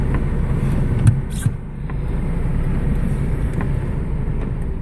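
A four-wheel-drive vehicle crawling through a wet front pasture on an off-grid Oregon homestead, its engine a steady low rumble up close with a couple of brief knocks and splashes, no talking.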